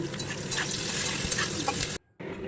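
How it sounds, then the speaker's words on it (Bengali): Onions frying in a pan for an egg curry, stirred with a steady close sizzle and scraping, loud and continuous before a brief cut to silence near the end. "এবার পেঁয়াজটা লাল লাল হওয়া পর্যন্ত আমি নেড়ে চেড়ে ভেজে নেব"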